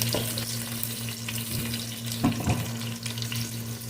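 Crushed garlic frying in a pan for salmon head sinigang, a steady loud sizzle with a low electrical hum beneath and a few soft clinks of stirring, no voices.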